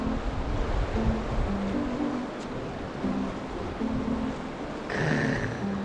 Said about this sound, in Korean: 아이 물소리 너무 좋아